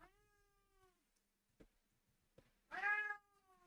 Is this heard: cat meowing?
yes